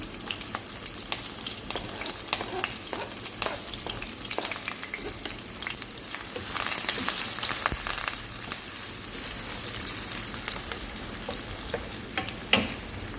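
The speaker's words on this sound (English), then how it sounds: "so my oil is hot. I'm going to add the garlic, the onion, the hot pepper, scotch bonnet pepper, and the white portion of the scallion" Garlic, onion, scotch bonnet pepper and white scallion pieces hit hot oil, setting off a loud, dense, continuous sizzle with crackles and stirring scrapes, heard up close and alone.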